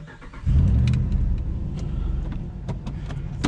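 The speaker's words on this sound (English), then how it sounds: "The truck's a little bit faster with nothing in the back there." An empty truck's engine rumbles loudly and steadily from close by, like riding inside it while driving on a scrap run, with faint clicks and rattles over the drone.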